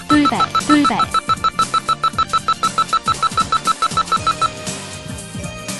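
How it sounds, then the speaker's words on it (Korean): A sudden-hazard warning alarm from a driving test vehicle sounds as a steady train of rapid, evenly pulsed electronic beeps, loud and close, running alone for several seconds over a busy tonal background. "차량 진행 중 돌발이라는 경고 음성과 동시에 차량 앞쪽에 설치된 돌발등이 켜지게 되면"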